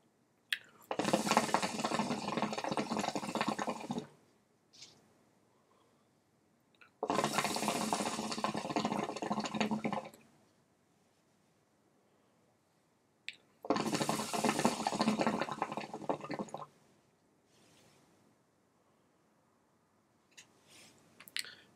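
A hookah with a Harmony bowl bubbles in three long bursts as someone draws on the hose, each pull a few seconds of gurgling water separated by quiet pauses.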